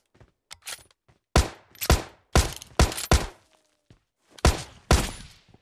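Sharp, loud gunshots ring out in a shooter video game, a ragged series of about a dozen cracks in irregular bursts, some single and some doubled, each with a short decaying tail and quiet gaps between.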